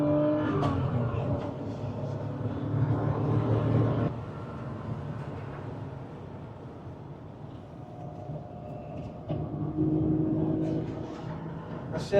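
An old Porsche Boxster engine revs on a race track, a steady droning note swelling and easing as it climbs through the gears, heard from inside the car.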